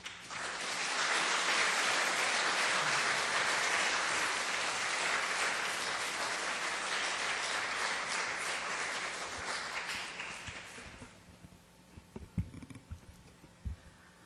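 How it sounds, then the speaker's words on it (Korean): Sustained applause from a church congregation at a night prayer meeting welcomes a missionary speaker, loud and dense for about ten seconds before fading out, followed by a few scattered claps and thumps. "오늘 김미란 선교사님 나오실 때에 큰 박수로 이렇게 맞이해 주시면 좋겠습니다"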